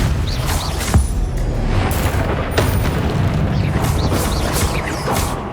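Repulsor spell blasts in the Hogwarts Legacy video game, a dense run of loud booming impacts and crashes one after another over a constant rumbling backdrop, with no voices.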